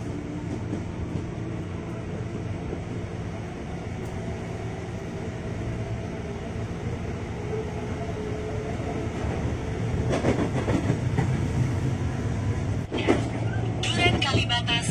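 A KRL commuter electric train on a Jakarta line, bound for Bogor, rumbles steadily at a station platform, swelling louder with rattling clatter toward the end as voices murmur underneath.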